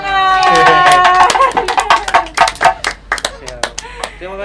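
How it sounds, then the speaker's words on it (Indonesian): Classroom audience clapping after a group presentation, scattered sharp claps growing into an uneven burst, heard alongside a voice speaking at the start. "ayo semua tepuk tangan"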